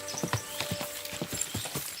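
Horse hooves clip-clop at a steady walking rhythm in Kingdom Come Deliverance 2. The hollow knocks are close and fairly loud, with faint tack jingling and no talk.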